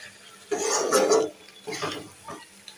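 Meat and pumpkin being stirred and sautéed with spices in a pan, two short bursts of scraping, clinking and sizzling, close and fairly quiet, with no talking.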